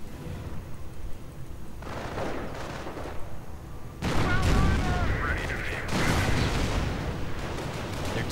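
Booming artillery barrages and crackling gunfire from a WWII real-time strategy battle, several heavy blasts rolling in over a few seconds with the loudest burst midway, while a commentator talks over the combat.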